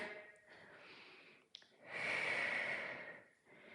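Person breathing during an upper body circuit workout: a soft breath, then one long, forceful exhale lasting over a second, close and quiet.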